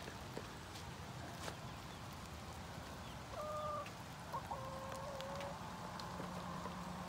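Young chicks give faint, high peeping calls in short bursts while squabbling over a grub, heard softly over a steady background hiss.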